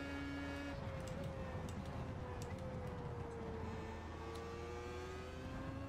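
Race car engine from iRacing, a steady droning hum with gliding pitch as it accelerates and shifts, loud and continuous throughout.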